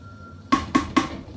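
A spoon knocks against a cooking pot of Nigerian jollof rice during stirring, making three quick, evenly spaced metallic clinks that ring briefly over a quiet background.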